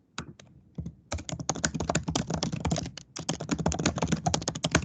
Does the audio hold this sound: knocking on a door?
no